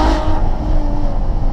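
A stock Ferrari 812 Superfast with a naturally aspirated V12 roars loudly and steadily in a dense, continuous drone, apparently heard from inside the cabin.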